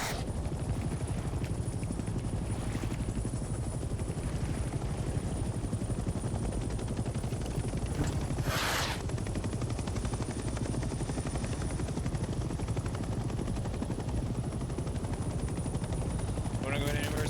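Helicopter rotor drone from Hell Let Loose: Vietnam, a video game, runs loud and steady throughout with bursts of door-gunner machine-gun fire blended in; a sharp louder burst lands near the middle, and voices talk over the din.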